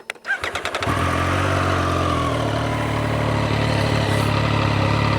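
A stationary motorcycle with a three-cylinder engine, Triumph Street Triple RX or Yamaha MT-09 SP, starts up and revs against its roughly 7,000 RPM standstill limiter. The engine roars loud and close, holding a steady droning tone with no talk over it.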